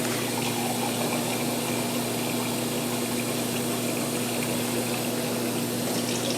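Water is poured steadily into a pot of chicken, a continuous loud splashing rush with no break and no voices.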